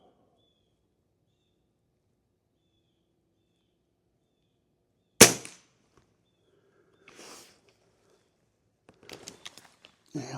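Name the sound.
22 air rifle shots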